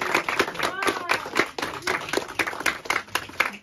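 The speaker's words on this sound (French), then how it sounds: "Applaudissez Jésus, alléluia" Wedding guests clap at a church marriage ceremony. The claps are quick and rhythmic, close and continuous, and voices carry along over the beat.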